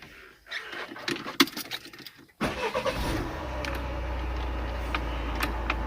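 A Citroën C8 163 hp with automatic gearbox, stuck in Park, starts up: some clicks and handling noises, then the engine cranks and catches, settling into a steady close idle with a low rumble.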